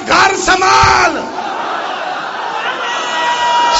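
A large crowd at a Shia majlis religious gathering in Jhang shouts a slogan in unison, a loud burst of voices that fades into a sustained murmuring roar.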